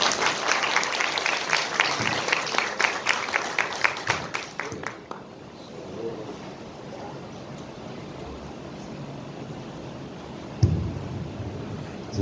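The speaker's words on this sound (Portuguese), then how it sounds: "uma salva de palmas para o nosso convidado" Audience applause for a guest speaker at a literary talk, dense clapping for about five seconds before stopping abruptly, leaving quiet room tone with a soft bump later.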